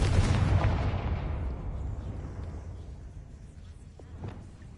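A Confringo fire spell blasts in Hogwarts Legacy, a loud booming explosion that rumbles and fades over several seconds, with a smaller pop near the end.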